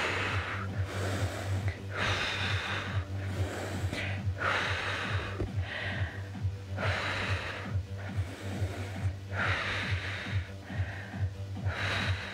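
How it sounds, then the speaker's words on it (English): Heavy rhythmic breathing during lower-body leg lifts with ankle weights, forceful exhales alternating with inhales in a regular pattern of about one breath cycle every two seconds, close and prominent over a low steady hum. "exhale up, inhale down, exhale up, inhale down"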